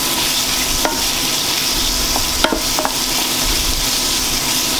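Shrimp frying in oil in a pan for a spicy shrimp pasta, giving a steady, loud, close sizzle throughout with a few sharp pops and clicks of utensils against the pan.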